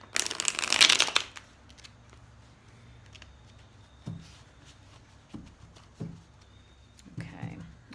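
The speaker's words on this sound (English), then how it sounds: "now when I'm done doing that shuffle, I will do this a few times" A deck of tarot cards gets a quick riffle shuffle, a short loud burst of crisp card flutter up close, followed by quiet handling, soft taps and a few low spoken words.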